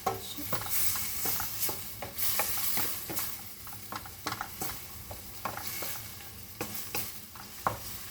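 Salted tomato sautéing in a pan for a sardine dish: a soft, steady sizzle broken by repeated sharp scrapes and clicks of stirring at an irregular rhythm, close and fairly quiet.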